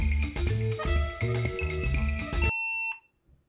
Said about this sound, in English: Every single time you turn on the computer, it beeps.